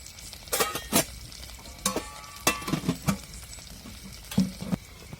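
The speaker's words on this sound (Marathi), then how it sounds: "तर आता आपल्याला मिरची परतून घे चांगली" Green chillies fry in a hot oil tempering with turmeric for a dal-onion dish, a low sizzle broken by several sharp stirring clanks and scrapes in a quiet kitchen.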